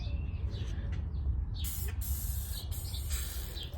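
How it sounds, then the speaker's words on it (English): A pump sprayer mists degreaser onto the trunk area of an SRT8 Challenger in a few short, close hissing bursts over a low background rumble. "lightly spray some on there."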